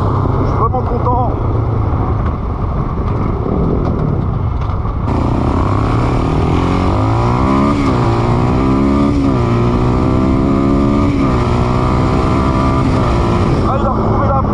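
A 350 Warrior motorcycle running strong after carburetor tuning, its loud engine revving up and down in continuous sweeping surges while the bike is ridden, a rider's voice occasionally over it.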